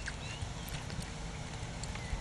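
Horse hooves in a medium trot during a dressage demonstration, giving steady, rhythmic beats that are fairly faint beneath a constant background wash.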